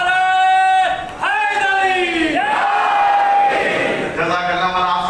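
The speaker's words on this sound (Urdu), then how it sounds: "چھوٹے چھوٹے بچے نعرے لگا رہے ہیں" Children at a majlis chant religious slogans together, loud and close: sustained, pitched group shouting in long rising and falling calls, one phrase running into the next with no pause.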